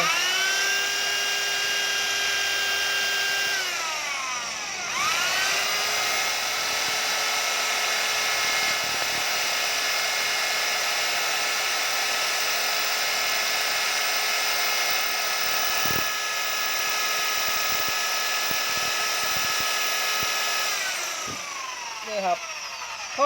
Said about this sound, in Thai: ก็ สว่านนะครับ เจาะเข้าไป